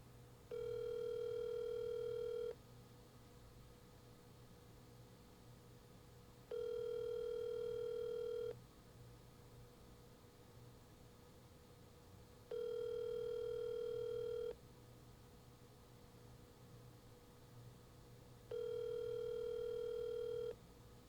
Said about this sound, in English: Calling Joshua Jepson.